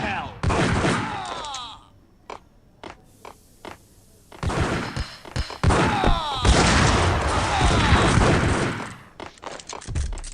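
In the Max Payne video game, shotgun fire and other gunshots ring out as sharp, loud blasts, some in rapid clusters and some as single isolated shots, with voices heard between them.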